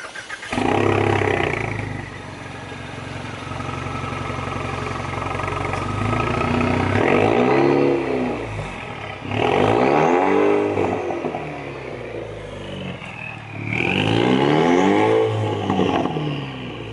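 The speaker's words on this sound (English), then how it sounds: "this is a clip with the exhaust completely done with the resonator delete" A 2020 Ford Mustang EcoBoost with its muffler and resonator deleted runs alone: a steady, loud exhaust drone under repeated rising revs that swell and fall back three times, with no talking.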